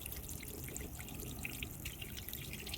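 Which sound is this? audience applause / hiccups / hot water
hot water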